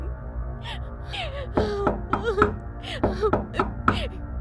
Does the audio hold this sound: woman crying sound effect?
yes